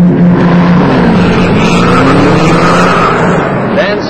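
A loud 150-horsepower turbocharged rear engine of an early-1960s Chevrolet Corvair roars steadily throughout, with a sustained, rumbling drone and some voice-like sounds mixed in.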